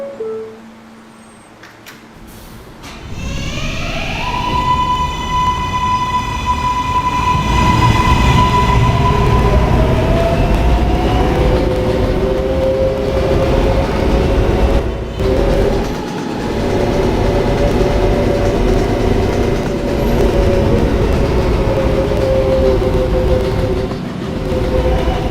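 A K train on the fictional Potato City Subway in a video game, running between Union Turnpike and Pathalassic Avenue, whines up in pitch as it pulls away and then keeps up a loud, steady rumble with a rising motor tone, alone.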